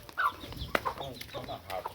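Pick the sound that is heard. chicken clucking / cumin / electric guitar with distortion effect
chicken clucking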